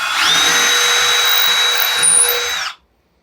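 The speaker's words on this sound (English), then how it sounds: "let's widen this up a little bit, because I don't want to drill into my table if I can help it" A power drill widens a hole in wood while a custom wooden key hanger is built, giving a steady high whine for nearly three seconds before it cuts off abruptly into silence.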